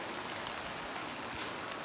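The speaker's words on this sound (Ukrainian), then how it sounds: "Знов дощ" Steady rain falling outdoors over a cabbage garden, a dense even hiss of drops with occasional louder patters, faint and continuous.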